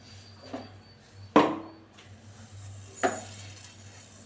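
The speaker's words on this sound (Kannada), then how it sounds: "ನೆಕ್ಸ್ಟು ನಾವು ಜೀರಿಗೆ ಹಾಕ್ಕೊತಾ ಇದ್ದೀನಿ." Cumin seeds going into a pan while making menasina rasam, with a few clinks of a metal spoon against the pan and faint sizzling and stirring between the knocks.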